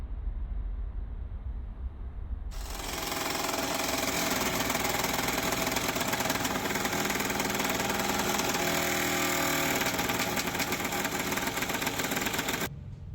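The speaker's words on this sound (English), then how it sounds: "In the meantime, I gotta cut this bolt out of here." A power tool cuts a broken bolt out of a car part. After a quiet start, a loud, harsh, continuous cutting whine runs steadily for about ten seconds, then stops abruptly.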